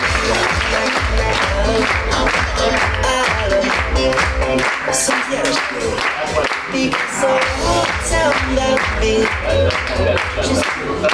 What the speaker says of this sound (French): Les cabines crew, s'il vous plaît, on peut les applaudir